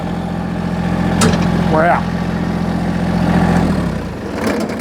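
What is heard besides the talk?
Massey Ferguson GC1725 tractor engine idling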